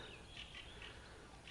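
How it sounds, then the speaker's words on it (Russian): Birds chirping in spring taiga near a camp, a few faint, high repeated calls spaced across a steady outdoor hiss, with no talking. "Все, птички, ребят, поют."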